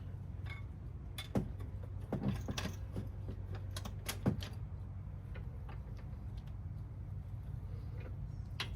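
Clicking ratchet strokes from a jack lifting one side of a Chevy Volt's front suspension during a strut and spring replacement, a series of irregular mechanical ticks over a low steady background hum, with no talking.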